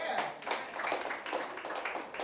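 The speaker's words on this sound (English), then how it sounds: "Y'all better clap for that now." An audience at an outdoor street talk at Restoration Plaza in Brooklyn, NY claps briefly, a faint, scattered patter of applause.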